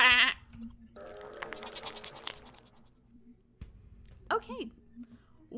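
A goat bleats in the video game Sally Face, a short nasal cry heard twice, once at the start and again near the end, with someone talking over quiet game ambience in between.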